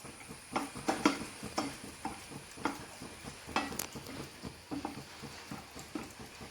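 Almonds sauté in a pan while jackfruit halwa is being made, giving soft sizzling with repeated stirring scrapes and taps of a spoon at a steady, uneven rhythm, quiet and close.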